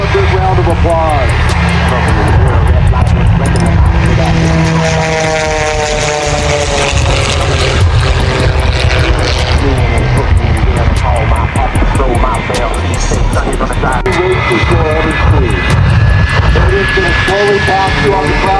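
A fixed-wing airplane roars past at an air show, a loud sustained engine drone that swells and sweeps in pitch across the pass while an announcer talks over a PA.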